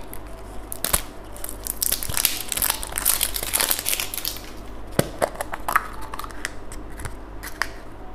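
A candy surprise egg's plastic wrapper crinkles and tears under nearby fingers, with bursts of dry rustling, a few sharp clicks and snips, in a quiet room with no talk.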